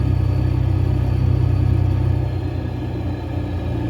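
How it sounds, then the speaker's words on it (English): A semi-truck hauling a race truck cruises down the road, a loud, low engine rumble with a steady tonal hum that eases slightly in the second half. "semi-truck idling down the road,"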